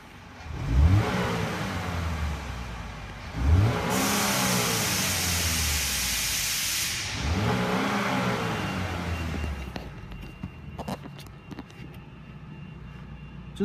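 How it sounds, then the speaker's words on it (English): A 2007 Pontiac G6 Value Leader engine idling with three sharp revs in the first seven seconds, each rising and falling back to a steady idle, then settling to a quieter idle with some clicks near the end. "Let's go ahead and listen to the engine."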